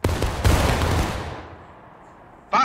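Rifle-musket volley from massed infantry in the Civil War battle game War of Rights, a dense crackling burst of overlapping shots that rolls and fades over about a second, followed by another sharp report near the end.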